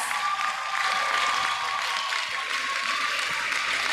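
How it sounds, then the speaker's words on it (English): Parents and guests at a primary school graduation ceremony applaud with steady, even clapping that holds for several seconds. "Give them a wonderful round of applause"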